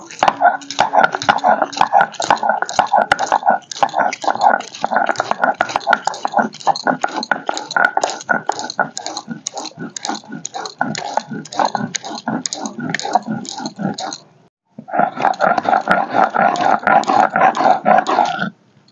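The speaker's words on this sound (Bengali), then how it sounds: "সবকিছু একসাথে এখন বেটে নেব।" Onion and green chili are ground together into a paste, a close, rhythmic, rough grinding and scraping stroke repeated steadily, pausing briefly before resuming; no speech is heard.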